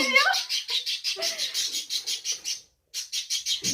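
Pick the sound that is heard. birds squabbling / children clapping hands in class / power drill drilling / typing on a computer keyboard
birds squabbling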